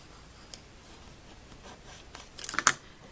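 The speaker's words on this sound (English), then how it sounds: "I'd like to take my bone folder and burnish it down" Bone folder burnishing a paper tab, a few soft rubbing strokes growing into a quick burst of close scraping near the end, quiet and alone.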